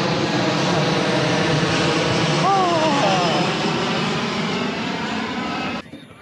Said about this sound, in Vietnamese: Tiếng máy bay.